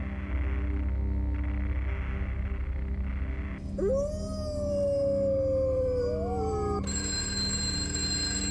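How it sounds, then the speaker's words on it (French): A wolf howls in a long rising-then-falling tone over a steady low drone, followed by a high, sustained ringing like an alarm bell, part of a live cinema-poetry performance. "On attend que gémisse le loup."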